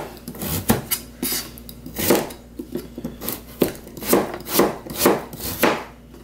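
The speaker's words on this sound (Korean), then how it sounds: "조금 굵직굵직하게 이렇게 썰어줄게요" A knife chops radish and carrot into thick chunks on a cutting board, each cut a close, crisp knock, coming in an uneven rhythm with short pauses between strokes.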